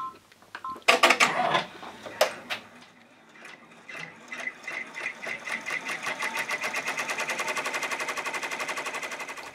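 A Mr. Beam laser cutter working on a T-shirt giveaway: a few loud clacks and thumps at first, then a steady fast train of sharp mechanical ticks repeating evenly and close by.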